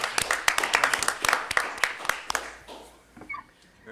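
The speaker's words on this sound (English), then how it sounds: "So big round of applause for Carlos and the team for hosting that." Applause from the room at a school district board meeting, a scattering of distinct claps from a modest group that thins out and fades toward the end, with faint voices underneath.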